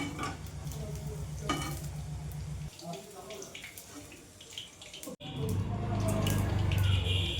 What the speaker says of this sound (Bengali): ভেজে নেবো ভালো করে ফুলকপি